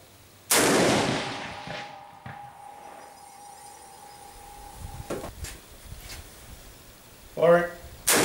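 A rifle with no muzzle brake fires a single loud, sharp shot near the start, the blast ringing out and decaying over a couple of seconds, followed by quiet handling noises and a brief voice near the end.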